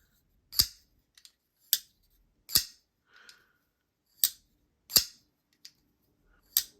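Arius Beyblade spinning tops battling in a stadium: sharp, loud isolated cracks and snaps at irregular intervals, about seven main hits with smaller ticks between them, in an otherwise quiet space.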